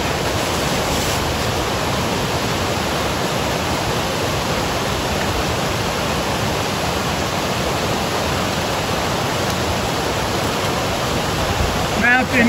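River water rushes steadily throughout a knee-deep trail crossing on the Pacific Crest Trail, a dense broadband flow, loud and close, with no speech in this stretch.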